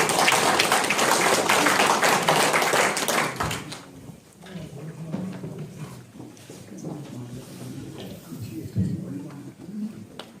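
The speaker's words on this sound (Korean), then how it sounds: "큰 박수로 환영해 주시기 바랍니다" Audience applause at a ceremony marking the 100th anniversary of the March 1st Movement as a guest speaker comes up, loud and dense for a few seconds, then fading into quieter room noise.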